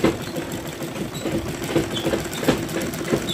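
A sewing machine stitches a salwar with a steady, continuous whirring hum and small periodic clicks, moderately close and alone with no talk over it.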